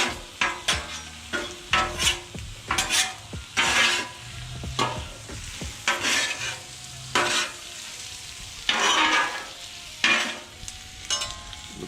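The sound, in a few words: stirring General Tso chicken frying on a Blackstone flat top griddle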